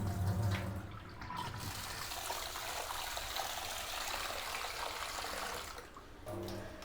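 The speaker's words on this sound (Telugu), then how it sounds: "చూడండి పచ్చగా ఎట్లా పోతుండే నీళ్ళు" Green, bitter water trickling and draining off squeezed bitter gourd, a faint, close, continuous dribble of liquid with a couple of brief handling noises, no speech.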